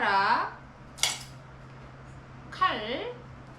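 A metal spoon clinks twice against other gear while camping equipment is packed for a two-week trip in Europe. The short, bright knocks sound close, and a person talks around them.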